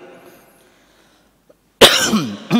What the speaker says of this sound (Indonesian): sorry saya agak batuk ya